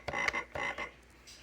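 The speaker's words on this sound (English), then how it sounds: "This is a frog sound." Two quick croaks, then a fainter one, come from a toy piano keyboard's built-in frog sound, played alone and close up.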